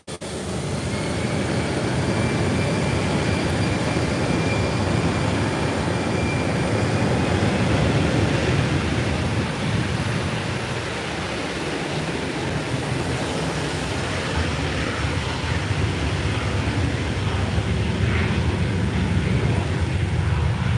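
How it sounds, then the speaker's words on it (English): A Norwegian Boeing 737 MAX 8 jet at Málaga airport makes a loud, sustained engine roar that holds broadband and steady for the whole stretch. "So there is the Norwegian 737 MAX 8."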